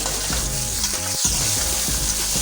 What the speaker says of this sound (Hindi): इसके अंदर ये मैं बंद गोभी डाल रही हूँ। इसको मैं हल्का सा फ्राई करूँगी।